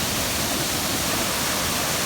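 A North Georgia waterfall running hard roars as a loud, steady, broadband wash that fills the whole moment without a break.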